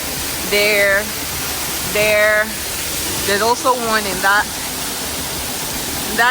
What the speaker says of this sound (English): So here we have water from the hot springs shooting out from there. See inside this cave, there are multiple dripping points of hot water there.